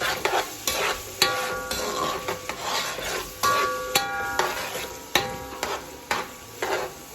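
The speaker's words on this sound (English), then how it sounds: "I'm gonna stir everything in." Rice and ham being stirred in a pot for arroz con gandules, a steady series of scraping, rubbing strokes over a soft sizzle, close and moderately loud, with no talking.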